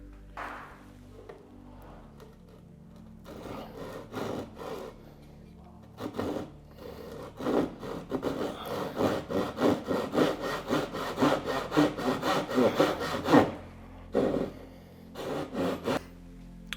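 A thin wooden veneer being sawn by hand for a boat build, with quick rasping back-and-forth strokes that start sparse and grow into a dense rhythmic run before stopping, close up, with no talking.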